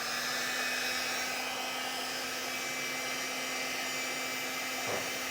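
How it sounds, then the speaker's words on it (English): A heat gun runs as the heat source shrinking heat-shrink tubing over crimped wire connectors on a trailer wiring harness, a steady close blowing whoosh with a constant hum throughout, alone. "you come back with a heat source and shrink them down"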